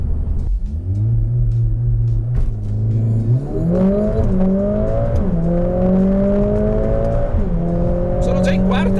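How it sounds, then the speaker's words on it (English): A Mercedes A45 S AMG hot hatch launching hard in drag race mode, its engine note climbing through several rising pulls with gear changes between them, loud and close, with a rumbling tone and a brief tire squeal. "Drag race mode is meant to maximize the acceleration on this car, which is quite impressive."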